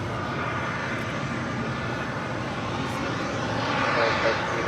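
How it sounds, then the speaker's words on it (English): A United Boeing 787-9 Dreamliner arriving from London at LAX gives a steady, broad jet roar. It stays fairly loud and constant throughout, swelling slightly toward the end, with talk faintly present under it. "This flight coming in from London on a 787-9 Dreamliner with United."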